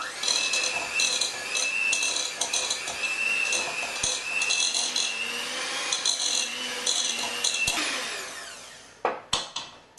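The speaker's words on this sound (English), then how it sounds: "I'm just going to mix these ingredients together." Dates, honey and cake ingredients mixed together in a bowl, a steady close scraping and rubbing that runs on without a break, ending in a few sharper knocks.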